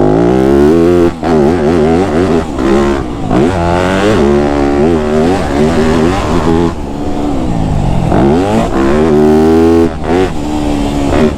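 A Yamaha YZ250F four-stroke dirt bike engine revs while being ridden, its pitch rising and falling steadily and loudly throughout, with no voices.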